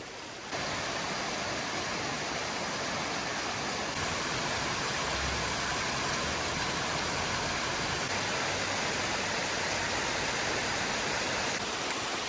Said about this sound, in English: All these little waterfalls into the main part of Oak Creek